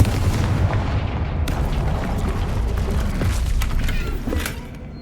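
A Confringo fire-blast spell explosion in the video game Hogwarts Legacy, a loud, sustained booming rumble with crackling bursts that holds steady and then fades out at the end.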